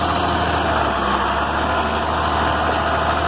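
Tractor engine revved up to drive a round baler's PTO during hay baling, heard as a close, steady mechanical drone with an even, sustained hum and no change in pitch.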